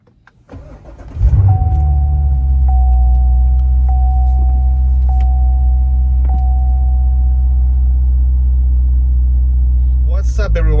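A Chevrolet Corvette C7 Stingray cranks briefly and fires up with a loud, deep rumble, then settles into a steady close idle with occasional faint clicks.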